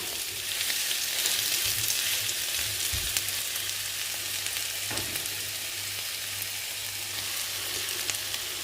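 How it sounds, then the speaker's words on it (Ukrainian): Steady sizzling of onions and eggs frying in a pan on smoked pork fat, constant and close, with a couple of soft stirring knocks and no talking. "перемішую, аби це з усіх сторін поджарило"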